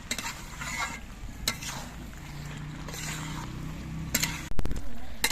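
Vegetables with sugar stirred in a pan while cooking pui mitul, a spatula scraping with soft sizzling and a few sharp clatters, fairly close and steady.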